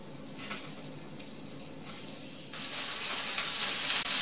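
Fish sticks sizzle steadily in canola oil in a pan, a soft frying hiss that jumps sharply louder and brighter partway through and then holds as a dense, close crackle with no talk.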